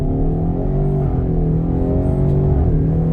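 A 2024 Ford Mustang base Pony in drag strip mode with traction control off holds a steady, loud engine drone with rising harmonic tones as the revs climb through the launch, close and uninterrupted.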